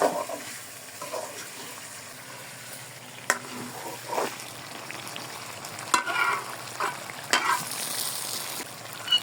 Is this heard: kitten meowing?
no